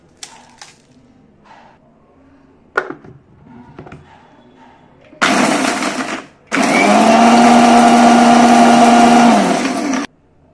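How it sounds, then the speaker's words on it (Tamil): Mixer grinder crushing dried red chilies and broken Kashmiri chilies into sambar powder, two loud bursts of whirring grind, a short run then a longer steady one, after some light clinks and handling. "எப்படி அரைஞ்சிடுதுன்னு பாருங்கள். இன்னும் கொஞ்சம் விட்டால் நல்லா மிளகாய் நல்லா பவுடரியாக அரைஞ்சிடும்"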